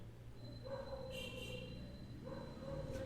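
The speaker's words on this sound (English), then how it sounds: "The fucking dogs are barking like crazy outside." Dogs bark on the street outside a window, muffled and distant yips and barks at intervals over a steady indoor hum.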